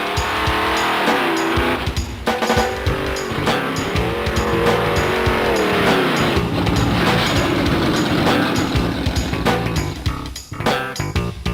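Car with a TH400 automatic transmission and a TransGo shift kit accelerating hard, with a loud continuous engine roar, rising revs across the gears and tire squeal near the start.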